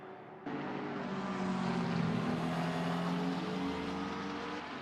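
GT3 race cars thunder around Spa in a racing video game, a loud sustained engine roar that cuts in abruptly and holds steady with shifting tonal whine, with no talk.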